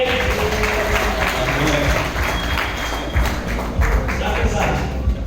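Congregation clapping for a pastor at a large Pentecost week church conference, a dense, steady wash of applause that runs the whole time with a few sharper taps and thumps and some voices mixed in.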